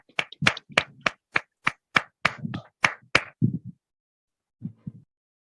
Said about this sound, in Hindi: मैं आपकी जोरदार तालियों के साथ में इनवाइट करना चाहूंगा शैलेंद्र भटेवरा सर